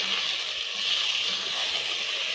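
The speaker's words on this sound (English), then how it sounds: "Add in a splash of water" Water poured into a hot pot of diced onions, tomatoes and carrots gives a steady hiss and sizzle, broad and even throughout, with faint low thumps beneath.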